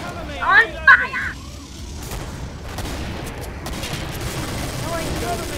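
Shotgun blasts in a fast-paced shooter game, a few loud bursts early on followed by a steady wash of combat noise and gunfire in the background.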